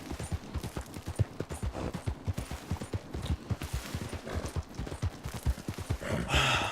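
A horse's hooves clip-clop at a fast, steady gallop in Red Dead Redemption 2, with a rapid, even rhythm of thudding beats throughout and a brief rushing noise at the end.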